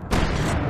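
A single sharp gunshot in the video game Alan Wake, a loud close boom that rings out briefly and fills the moment.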